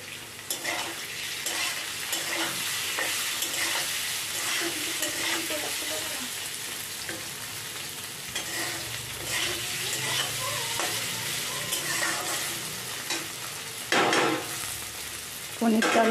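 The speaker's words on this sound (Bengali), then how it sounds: "পনিরটা লাল লাল করে ভাজা হয়ে গেলে এরপর এটাকে তুলে রাখবো।" Paneer cubes fry with a little salt in a pan, a continuous crackling sizzle broken by scraping stirs and light clinks of the utensil, close and steady over about sixteen seconds.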